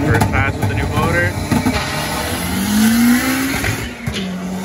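A K20 turbocharged seventh-generation car launches down a drag strip, its engine note climbing steadily as it accelerates, loud and continuous with crowd noise and voices around it.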